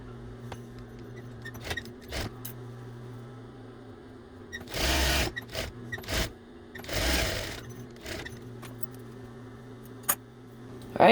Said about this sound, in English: we're going to back stitch here and then all the way to the bottom and back stitch at this end as well